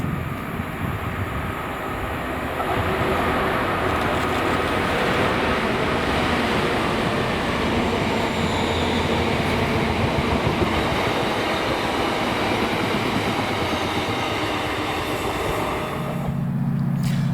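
A Class 66 locomotive, 66734, hauls ten GPA cement wagons on a Carlisle to Mossend freight working in Scotland, giving a steady, loud rumble of engine and rolling wagons that holds throughout.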